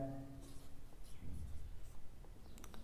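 Pen or chalk writing by hand during a Class 10 trigonometry lesson in Hindi, a faint scratchy rhythm of short strokes running steadily under the quiet room tone.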